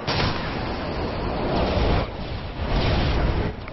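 Stealth bomber airstrike in Modern Warfare 3, a dense rolling barrage of heavy explosions rumbling continuously for several seconds, loud and close with a brief dip midway before pounding on.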